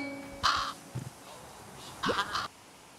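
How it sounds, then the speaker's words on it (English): Two bursts of harsh cawing from a crow in the video game Little Kitty, Big City, with a short soft flutter between them, fairly close and clear over a quiet background. "Oh, the crow friend."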